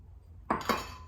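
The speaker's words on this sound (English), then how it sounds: "now we're just going to mix the yeast in with the whole milk" A utensil stirs yeast into warm whole milk in a bowl, making two quick close clinks against the side, with no talking.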